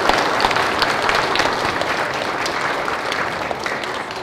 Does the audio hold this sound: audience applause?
yes